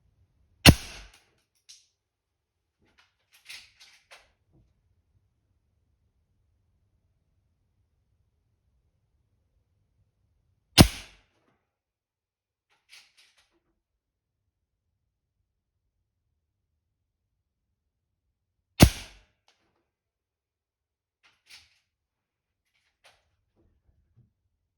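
An air rifle fires pellets while its scope is being zeroed. Three sharp, isolated cracks are spaced several seconds apart, with faint clicks and handling noises between them in otherwise near silence.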